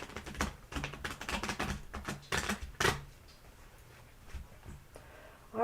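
Tarot cards being shuffled by hand, a quick burst of crisp riffling and tapping slaps for about three seconds, then quiet handling noise, close and fairly soft.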